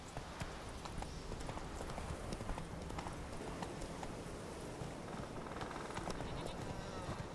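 Horse hooves galloping in the video game The Witcher 3, a steady run of soft clip-clop beats that carries on through the whole stretch, with the game's ambient sound behind it.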